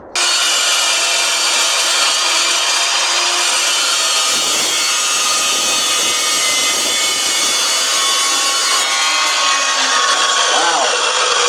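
A power tool cuts smoothly through a metal bar for the bed floor of a 1969 Ford F100, a loud steady grinding whine lasting the whole stretch with a brief dip midway.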